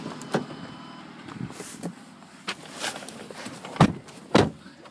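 A Mazda Tribute SUV being closed up, with faint rustling and movement followed by a couple of dull, close door or hatch thuds near the end and no speech.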